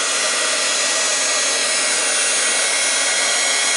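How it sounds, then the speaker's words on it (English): Heat gun blowing steadily over clay on a journal cover, a constant loud broadband hiss and rush with no breaks and no voices. "Just keep your heat gun moving all the time."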